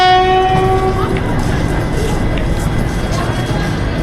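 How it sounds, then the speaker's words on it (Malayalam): An Indian Railways train pulls away from platform 1 with a loud, close, continuous rumble, while horn tones sound over it in the first second or so. "നമ്മുടെ ട്രെയിൻ ഇതേ 1ാമത്തെ പ്ലാറ്റ്ഫോമിൽ നിന്ന് എടുത്തേക്കുവാണ്"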